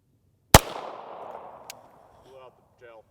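A single CCI Uppercut .22 LR round fired from a Beretta 92 FS pistol outdoors: one sharp, loud crack followed by a fading reverberant tail, then faint brief voices afterward.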